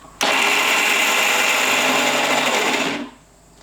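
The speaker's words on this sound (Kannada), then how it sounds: "ಇದು ನುಣ್ಣಗೆ ರುಬ್ಕೋತೀನಿ ರೀ." Mixer grinder blending chutney with water to a fine paste, a loud steady whine starting abruptly and running about three seconds before cutting off, with no talk.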